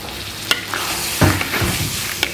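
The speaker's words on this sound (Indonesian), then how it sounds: "Jadi ini nggak boleh ditumis lama-lama, nanti jadi pahit." Ground spices and paste sizzle and hiss in oil while a spoon stirs and scrapes the pan, with a few sharp clinks and steady frying in the background.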